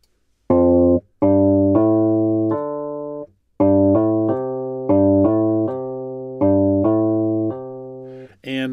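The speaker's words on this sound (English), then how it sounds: "it's the Telecaster default. So this is one that I go to for guitar type sounds a lot." A synthesized Telecaster-style guitar patch in Logic Pro X plays a sequence of sustained, harmonically rich notes. Each note is loud and close, with clean attacks and brief gaps between phrases, and there is no talking.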